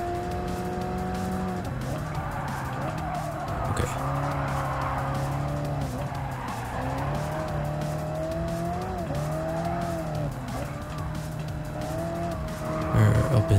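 A race car laps Trial Mountain in Gran Turismo 7, its engine rising and falling through gear changes as the tires squeal and skid through corners, loud and continuous, with one brief spoken word.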